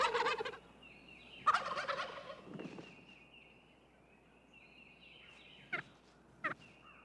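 A male wild turkey gobbles loudly in rapid rattling bursts during courtship, a few times in succession, followed by quieter calls and sharp clucks in the distance.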